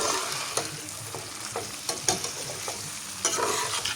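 Potatoes and mixed vegetables stir-fry together in a pan, giving a steady close sizzle with a clack every second or so as a spatula scrapes and turns them.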